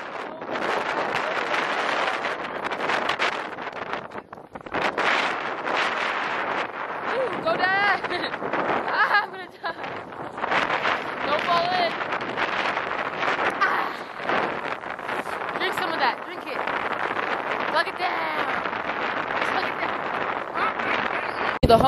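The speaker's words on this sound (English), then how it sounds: "It's gonna get really windy in the next clip, so yeah, you might want to turn your audio down." Strong wind buffets the microphone on the Athabasca Glacier in Jasper National Park, a loud, continuous roaring rush with gusty swells for over twenty seconds, with a few brief voices and exclamations mixed in.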